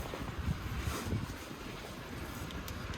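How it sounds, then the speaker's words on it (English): Strong outdoor wind, a steady rushing roar with low buffeting rumbles that swell and ease throughout, loud and close, with no other sounds standing out. "Very windy today."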